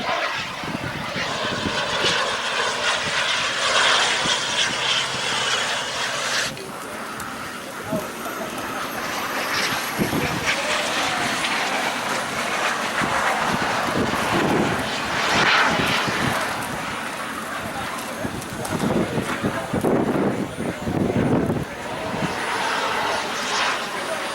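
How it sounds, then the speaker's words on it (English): A broad, steady engine roar of a jet aircraft passing overhead, loud and continuous with a slight swelling and fading across the whole stretch. "But they already got a lot of jets in the air."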